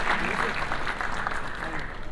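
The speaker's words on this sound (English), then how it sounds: "Ladies and gentlemen, can we give a huge round of applause" Audience applause at a conference hall during an infrastructure conclave, a steady wash of clapping filling the whole short stretch at moderate level, with some voice-like texture mixed in.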